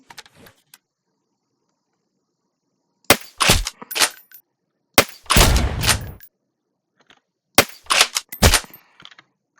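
Gunfire in a tank video game comes in sharp, loud clusters of cracking shots separated by stretches of silence, with one longer rumbling blast in the middle.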